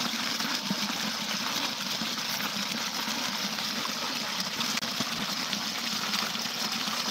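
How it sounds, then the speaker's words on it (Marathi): Water flowing outdoors, a continuous dense rushing wash that holds steady and fairly loud throughout, with no voices over it. "ते बघ, पाणी असं चालतंय."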